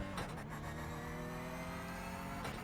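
Porsche Cup race car in the iRacing sim accelerating hard uphill at Road America, a steady loud engine drone with layered harmonics holding throughout, briefly dipping as the driver shifts near the end.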